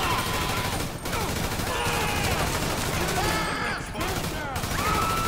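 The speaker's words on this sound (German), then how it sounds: "Damit kann man schon ein bisschen ballern." Rapid gunfire from a gun in the video game GTA 5: continuous, dense bursts of shots with brief pauses, loud and close, mixed with other game noise.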